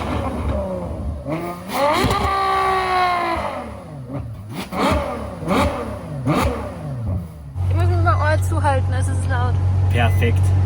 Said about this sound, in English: you guys are gonna have to listen to that V12